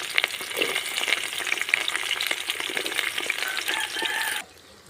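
Small onions frying with fenugreek seeds in hot oil for a Tamil fish curry, a busy close sizzle with stirring scrapes that cuts off abruptly near the end.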